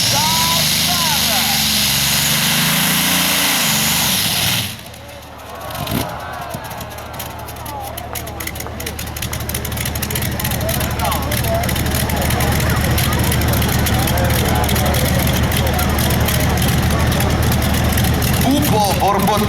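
A pulling tractor powered by Allison aircraft engines roars loudly at a tractor pulling event, cutting out abruptly and then building back up into a rough, sputtering drone while an announcer talks over it.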